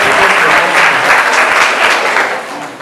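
Dense, loud applause from the audience at a church youth event, welcoming a helper for a theatre piece, a close and steady wash of clapping that thins slightly toward the end.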